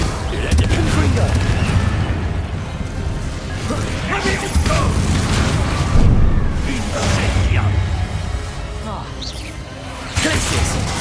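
In Hogwarts Legacy, the Confringo explosive spell bursts amid a chaotic duel, with repeated booms, crashes and crackling impacts layered under a voice calling out spell names.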